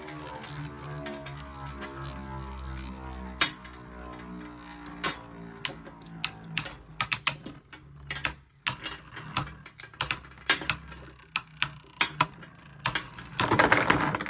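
Beyblade Burst tops spinning and clashing in a stadium after launch, including a Rocktavor and a Hurosood recolour: a soft spinning whir followed by a rapid series of sharp, close plastic clicks and impacts, denser toward the end.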